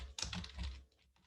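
Quick typing on a computer keyboard while setting up the VS Code editor: a burst of close, crisp key clicks, then a few lighter taps trailing off, with no voices.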